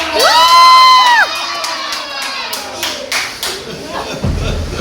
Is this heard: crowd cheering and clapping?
yes